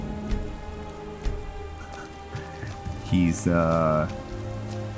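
Rain patters steadily in the Skyrim video game, a soft continuous hiss under a voice, with a brief tonal game sound swelling up near the end.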